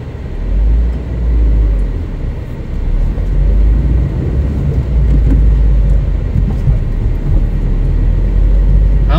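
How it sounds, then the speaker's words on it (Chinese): Steady low road and engine rumble from a 2023 Proton Saga 1.3L Standard manual car driving on the road, heard from inside the cabin, continuous and fairly loud with no talking. "就把这台车开上路"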